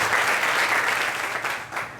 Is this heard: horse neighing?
no